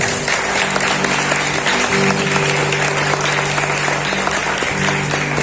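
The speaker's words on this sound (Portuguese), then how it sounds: "Aplauda o Senhor mais uma vez." A church congregation at a Holy Spirit seminar applauds, dense continuous clapping filling the room with a low hum of voices and steady background tones beneath.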